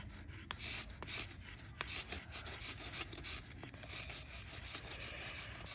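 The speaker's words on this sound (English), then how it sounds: "we pick up a color of chalk and then we scrub it like this until enough dust comes out" A stick of chalk is scrubbed against a surface to make dust, a quiet, close, continuous rasping rub with irregular strokes.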